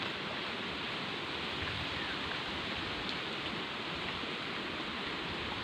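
Steady, even hiss of rain falling continuously, soft and uniform with no other distinct sounds.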